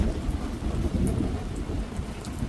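A thunderstorm with steady, dense rain and deep rolling thunder. The sound is continuous and fairly loud, with no voices.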